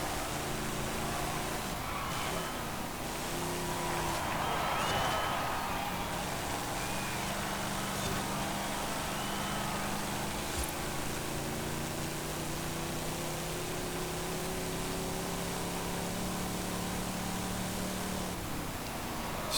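A 1966 Oldsmobile Toronado engine with a 3-speed transmission in Forza Horizon 5 hums steadily at low revs, its tone shifting slightly, over a constant background hiss.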